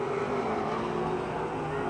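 A race car spins 360 degrees on the front straight of Pennsylvania Motor Speedway, its engine a loud, dense, sustained roar that drowns out all other sound.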